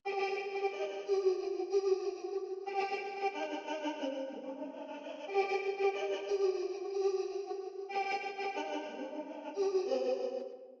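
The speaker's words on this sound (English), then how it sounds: "I added this Vox sound, which I'm pretty much in love with." A chopped, processed vocal sample repeats in short phrases over a steady musical bed, with echo and effects coloring it; no talking.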